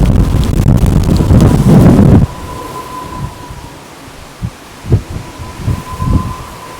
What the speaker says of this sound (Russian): Абсолютно ураганный ветер, даже невозможно подойти